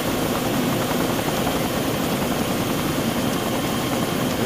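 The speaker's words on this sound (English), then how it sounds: "Everybody run away from the deadly helicopter." A helicopter in the ArmA 2 war game, a loud, steady rotor and engine drone filling the whole stretch without pause, close and constant with no voices over it.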